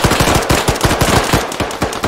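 Automatic gunfire from the Arma 3 video game, a long rapid rattle of loud shots repeating in a fast, even rhythm, sustained and close with no talking.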